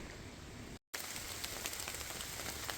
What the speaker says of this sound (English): I was right about the rain.